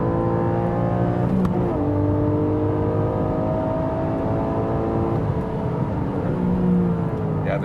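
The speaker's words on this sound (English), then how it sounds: "this double clutch experience, when the car does it itself, that's always pretty cool to hear" A Porsche 718 GTS 4.0 engine drones loudly on a racetrack, its pitch climbing then dropping abruptly at a couple of quick automatic double-clutch gear changes, with a sharp click near the start.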